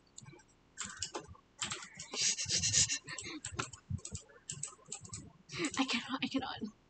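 Computer keyboard typing close to the microphone, irregular bursts of quick key clicks with short pauses between them, fairly quiet overall.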